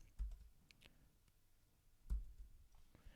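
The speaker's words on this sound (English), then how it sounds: "I will hide this from your screen and type something" A few quiet clicks of typing on a computer keyboard come in two small clusters with a pause between them, faint against near silence.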